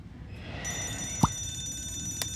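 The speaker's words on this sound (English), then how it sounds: "Alarm in that floor is functional." An alarm rings in the video game Scribblenauts Unlimited, a sustained electronic bell-like tone with a sharp metallic strike near the middle and a fainter one at the end, heard alone.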